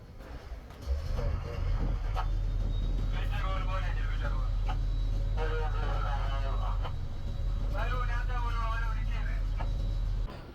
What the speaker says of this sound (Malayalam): അപ്പോൾ സ്രാങ്ക് വീഞ്ചിൻ്റെ ലിവർ തട്ടിയിടുകയാണ്